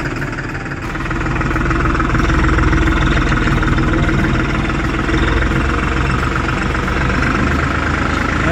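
New Holland TT55 tractor, a 2021 field-type model, running with a steady, loud, low diesel rumble that rises slightly in load after the first second and holds evenly throughout, close by.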